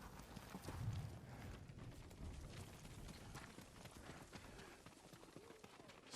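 Horse hooves in Ghost of Tsushima, a steady clip-clop of a trotting horse across terrain, fairly quiet and continuous with a heavier thud early on and faint speech mixed in.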